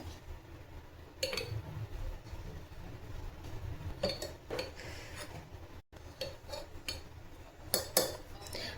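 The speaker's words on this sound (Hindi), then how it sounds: "इस तरह से हमें अचार को इस बर्नी में भर देना है।" Homemade mango pickle is spooned into a glass jar, giving soft scraping rubs and light clinks of a spoon against glass at an uneven pace, close and fairly quiet.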